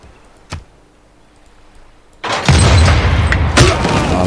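A tank fires in Civilization VI. A faint tick comes first, then one heavy booming shot that rolls on into a loud, sustained rumble with a further thud near the end. No one speaks.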